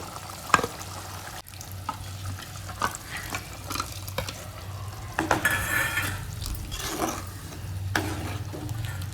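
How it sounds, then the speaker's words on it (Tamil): Ground coconut masala being poured into a boiling peanut curry, with steady bubbling, sizzling and a spoon clattering and stirring against the pot. "இப்போ அரைச்சி வச்ச மசாலா ஊற்றிடலாம்"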